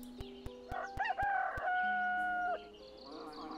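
A rooster crows in the Gobliiins video game, a loud, clear cock-a-doodle-doo with rising and held tones lasting about two seconds, set among sharp clicks and game sound effects.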